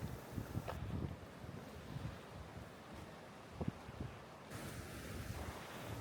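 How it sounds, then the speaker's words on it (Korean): Sea waves wash onto the East Sea shore along a coastal deck walkway, a steady low rush of surf with soft thuds of breaking water and some wind buffeting the microphone, with no voices. "파도 소리를 음악 삼아 들으며 걸으니 머릿속에 번뇌가 없어지는 듯한 느낌이에요."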